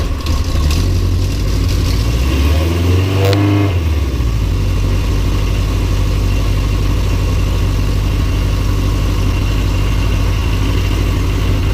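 A Yamaha XJ900F motorcycle engine starts with a quick cranking whine and catches into a steady, loud idle with choke on, the low rumble holding evenly throughout.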